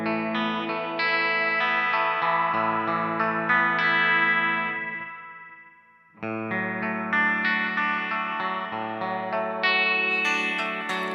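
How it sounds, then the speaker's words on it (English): Sustained electric guitar chords through a Flamma FG200 multi-effect unit ring out with a swirling phaser sweep and a little reverb, fading briefly to near silence before a new strummed chord swells back in. "You can definitely hear the phaser."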